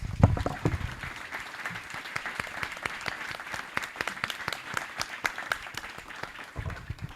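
A lecture audience claps for several seconds after a keynote talk, moderately faint and slightly uneven, with scattered individual claps and some low room noise.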